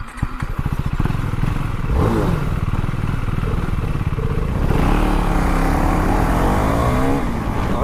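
A new motorcycle races a second bike in a drag race, its engine roaring loud and close as it accelerates through the gears with rising revs and no talk over it.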